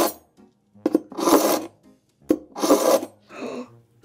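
Kitchen knife drawn through a suction-base sharpener in two distinct rasping strokes, each a close, harsh scrape about half a second long, separated by clicks and short pauses, with a softer scrape at the end.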